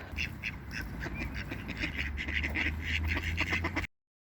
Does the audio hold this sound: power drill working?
no